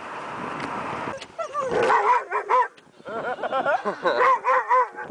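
A dog in a moving car yips, barks and whines excitedly at pronghorns in quick bursts, high-pitched and close, with a steady rumble of road noise underneath.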